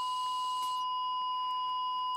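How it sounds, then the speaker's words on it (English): An EKG heart monitor holds a single steady flatline tone, continuous and clear, with no voices over it. "Its solemn beeping had mutated into a single, long, flat tone."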